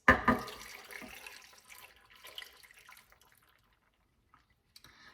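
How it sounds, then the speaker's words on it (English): Liquid poured over chopped vegetables and meat in a pot for beef stew, a close splashing pour that tapers off into faint trickles and drips. "all I'm going to do is pour this onto the veg and the meat"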